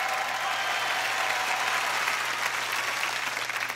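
Canned applause plays from a hidden speaker installed under a sink, a uniform wash of clapping and cheering, steady and fairly soft, with a low hum beneath and no voices.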